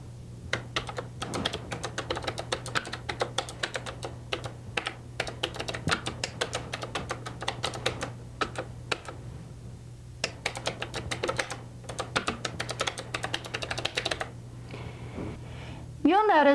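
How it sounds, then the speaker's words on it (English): Fast, irregular clatter of keys on a computer keyboard, typed in bursts with short pauses and a few heavier Enter presses, close and clear, with a brief voice at the very end. "I'm going to type my name here and then hit the Enter key a few times."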